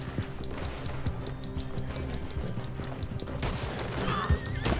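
Horse in Red Dead Redemption Online giving a loud whinny with a rising and falling pitch, over steady clip-clop hoofbeats and ongoing game ambience.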